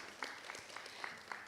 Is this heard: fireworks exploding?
no